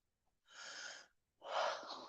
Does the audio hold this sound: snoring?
yes